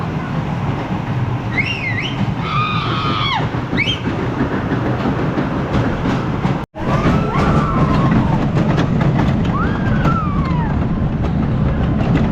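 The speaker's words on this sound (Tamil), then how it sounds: "ஆக்சுவலாக இங்கே நம்மளுக்கு மினி கோஸ்டர் இருக்குங்க" Mini roller coaster train at a Bangalore theme park rolling past with a steady rumbling clatter, overlaid by a few sharp wheel squeals, fairly loud throughout.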